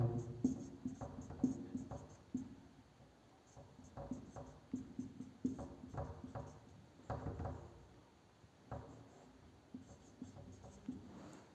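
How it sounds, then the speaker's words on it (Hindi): A pen or chalk scratches across a board in short strokes and quick bursts, close and fairly quiet, pausing briefly between words as they are written. "उसके बाद बात करते तो यहाँ पे लिख देंगे मोतीलाल नेहरू।"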